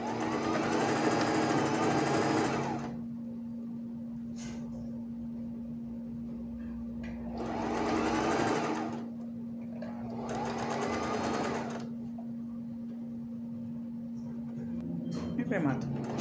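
A sewing machine stitches a gathered blouse in several separate bursts of fast mechanical whirring, with quieter gaps between them where a voice speaks.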